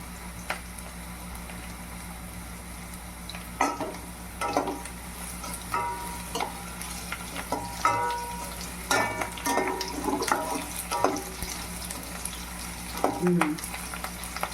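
A Rayalaseema-style banana flower and lentil curry fries in a pan, a steady close sizzle running throughout while a spoon stirs and scrapes in irregular bursts, with no talking.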